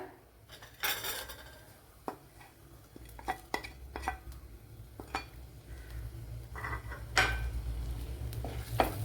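Garlic, ginger and green chili in hot oil in a pan, with a low frying hiss beneath repeated sharp clinks and scrapes of a utensil against the pan, close and fairly loud.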